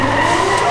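A car drifting at a racetrack during drift practice, its tires skidding and squealing in a loud, continuous screech against a steady engine roar, close by.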